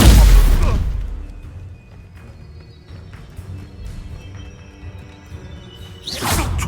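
Incendio fire spell cast in the Hogwarts Legacy video game: a loud rushing burst at the start that fades into low rumbling ambience, then a second whooshing flare near the end.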